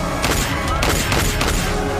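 Successive gunshots ring out in a fight scene from a TV drama, dense overlapping bangs and booms over a constant loud background of music and effects.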